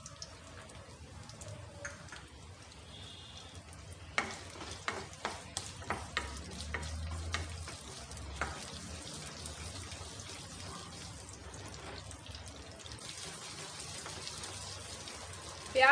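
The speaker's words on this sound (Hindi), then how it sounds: "अब इसमें हम डाल देंगे कटे हुए प्याज।" Chopped onions fry in hot oil in a pan, a steady close sizzle with occasional stirring scrapes and small pops, no voices over it.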